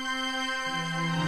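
Violin section in a string arrangement plays non-chord notes around a chord tone, a sustained high line that steps down to a new pitch partway through; short, moderately loud, with no voices.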